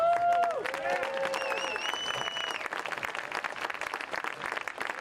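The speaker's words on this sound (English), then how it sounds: "let's give our seniors a last round of applause." Crowd applause for seniors at a boys' soccer senior night, steady outdoor clapping from many people throughout, with whistles and cheering voices mixed in early.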